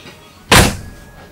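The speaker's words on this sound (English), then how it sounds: "I'm going to open the door" One sharp thunk of a door, loud and close, followed by a short fading rumble.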